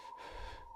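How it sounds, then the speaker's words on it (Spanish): Breathing close by in a story sound effect: one brief, breathy inhale-exhale with a raspy, gasping edge over a faint steady tone. "sentí a alguien respirar a corta distancia"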